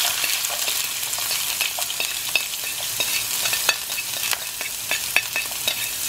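Mushrooms, peppers, onions and garlic fry in a hot pan, giving a steady close sizzle dotted with sharp crackles and pops throughout, with no voices.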